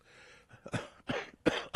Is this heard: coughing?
yes